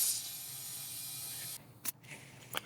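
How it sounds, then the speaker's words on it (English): Compressed air hisses steadily into a Ventrac tractor tire for about a second and a half, then cuts off, leaving a few sharp clicks from the air chuck. "we're gonna go ahead and inflate this tire"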